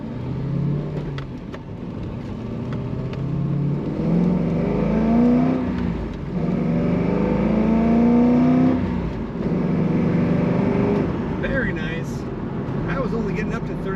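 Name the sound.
2003 Chevrolet Corvette Z06 accelerating on the road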